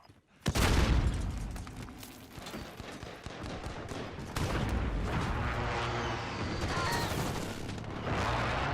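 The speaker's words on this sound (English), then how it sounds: "Enemy precision airstrike." Enemy precision airstrike in a military shooter video game: a sharp blast opens, followed by rolling booms and scattered gunfire that rumble on at moderate distance without pause.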